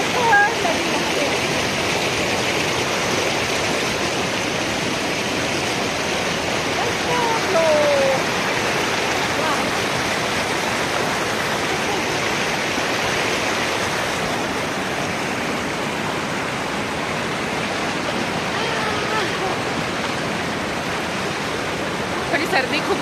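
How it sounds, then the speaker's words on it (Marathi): The Yamuna river near Yamunotri rushes past in a loud, unbroken roar of turbulent water, close and steady throughout, with a voice faintly audible under the flow. "तिथेच बाजूलाच नदी वाहून राहिली होती"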